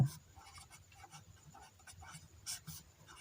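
Marker or chalk scratching across a board during a physics lesson on convex mirror image formation, short faint strokes in a quiet room, with occasional soft taps.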